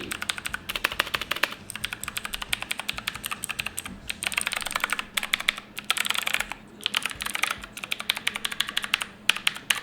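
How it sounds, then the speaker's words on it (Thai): Rapid typing on a Tt eSports Poseidon Z mechanical keyboard with clicky Blue switches, each keystroke a crisp, bright click in quick irregular bursts separated by brief pauses, close and alone with no talking. "คลิกกี้ ตาม สไตล์ Blue Switch ทั่ว ๆ ไป นะ ครับ"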